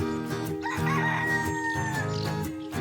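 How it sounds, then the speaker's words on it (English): A rooster crows loudly and close by, one long drawn-out call rising and falling over a few seconds. "I hear a rooster."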